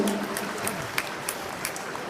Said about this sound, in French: Vous pouvez les applaudir, parce que c'est beaucoup de temps passé dans la préparation.